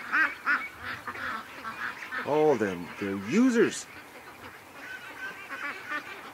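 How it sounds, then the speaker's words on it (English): A group of ducks by a lake gives a few loud, nasal honking quacks close by, mixed with people talking outdoors. "What a group of ducks I got this year."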